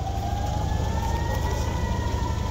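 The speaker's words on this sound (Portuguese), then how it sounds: "a população buscando abrigos no meio do tocar das sirenes" Air raid sirens hold a steady tone over a loud, rumbling low background, sounding continuous and fairly distant, with no voices.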